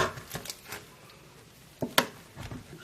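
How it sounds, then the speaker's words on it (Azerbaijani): A knife cuts bread into small cubes for homemade croutons, producing a handful of faint, scattered dull taps against a cutting board at uneven intervals. "Dilim-dilim doğrayıram."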